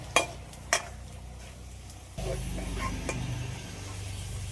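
Potato chips frying in oil in a home kitchen, with two sharp clinks of a utensil at the start, then a louder steady sizzle as the chips are turned over, close and without voices.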